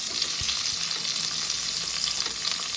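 Vegetables hiss and crackle as they fry in ginger paste and a spice tempering, a steady close sizzle broken by a few soft stirring knocks, with no voices.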